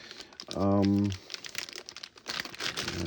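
Foil packaging is torn open while unboxing a Behringer BM-11M low pass filter module: close, crisp crinkling and tearing crackles come in irregular bursts, interrupted early by a short, loud humming voice.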